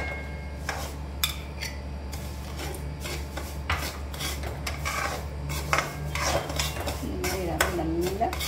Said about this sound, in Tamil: இந்த மாதிரி ரவை நல்லா நெய்யில் வறுக்க சொல்ல உங்களுக்கு ஒரு நல்ல மனம் வரும்